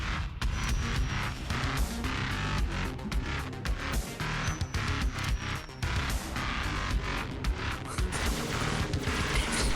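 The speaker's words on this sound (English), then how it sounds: "We now needed to test what a frag grenade directly underneath it would do." A frag grenade detonates directly beneath a Ghost in the Halo video game, in a dense run of game combat with repeated explosive blasts and gunfire-like bursts that stay loud and continuous throughout.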